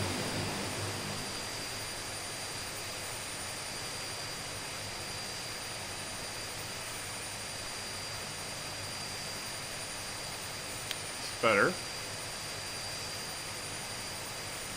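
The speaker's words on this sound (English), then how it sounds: "Right now we're just warming the engines up" Steady, continuous drone of DHC-6 Twin Otter turboprop engines warming up in a flight simulator, with an even whine holding throughout and a brief voice near the end.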